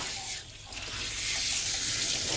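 Water runs steadily from a tap onto a dog's back during grooming, with a bright hissing splash, continuous and close.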